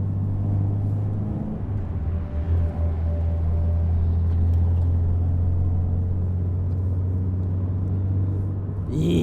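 Toyota 86 fitted with SARD four-throttle individual throttle bodies, its engine a steady low rumbling drone heard from a short distance, holding fairly constant with a slight swell near the end.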